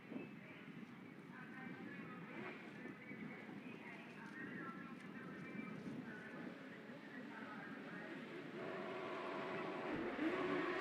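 Autograss race cars racing at Scunthorpe in the British Autograss Series: a steady, fairly distant engine roar with wind noise, swelling louder toward the end, under a voice talking.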